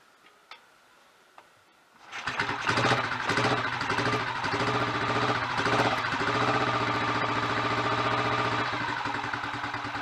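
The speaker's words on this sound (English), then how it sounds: "I haven't started the engine on this since I've stripped, tuned, rebuilt the top end." A rebuilt, tuned Royal Enfield 500 motorcycle single-cylinder engine is started after a few faint clicks, catching abruptly and settling into a loud, steady, rapid thumping idle that runs on, close by and alone.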